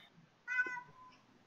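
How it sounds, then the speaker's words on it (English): A pet cat gives one short, faint meow in a quiet room, a single plaintive cry. "I hear a cat."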